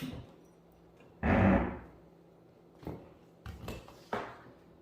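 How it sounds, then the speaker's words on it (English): A heavy thump and drawn-out scrape as a couch shifts, followed by several shorter knocks and bumps with quiet pauses between. "that is the sound of the couch."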